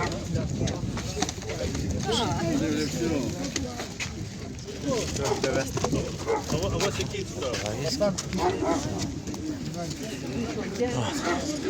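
Pigeons coo amid a busy crowd at a poultry and bird fair, with dogs yapping and people chattering nearby in a noisy outdoor market.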